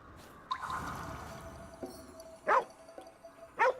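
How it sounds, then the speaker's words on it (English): A hurt dog in the game GhostWire: Tokyo gives a few short, separate barks or yips, close and fairly clear over a quiet background, with faint softer sounds in between. "Dude, is that a dog?"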